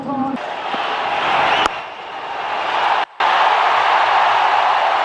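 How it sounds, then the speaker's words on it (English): A large cricket stadium crowd roars for a hometown hero during a women's ODI. A broad, loud, sustained wash of cheering swells across the whole stretch, with brief cuts and a voice speaking at the start. "Listen to the crowd as the hometown hero."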